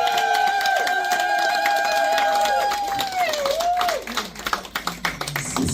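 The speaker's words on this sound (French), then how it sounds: "Applaudissez encore." Guests applauding at a 40th birthday party, scattered clapping that starts under sustained singing or voices and becomes more distinct and uneven toward the end, with individual sharp claps.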